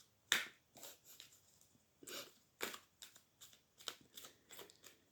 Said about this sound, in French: On va prendre une dernière petite carte de conseil pour toi quand même.